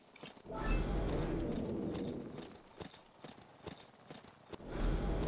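Galloping horse hooves in a horse-riding video game beat as rapid, fairly loud clip-clops in two bursts separated by a quieter patch with a few scattered hoof hits.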